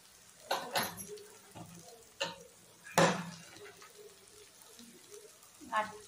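Vegetables and spices for veg pulao are stirred in a pan, giving a few scattered scrapes and clinks of a spoon against metal, fairly faint, with a voice speaking in between.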